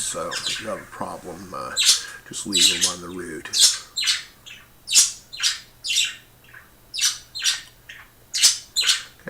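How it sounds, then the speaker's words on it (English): Pet birds squawk and chirp in repeated sharp bursts across the clip, fairly loud and close, with someone talking over them early on. "Sorry about my birds in the background."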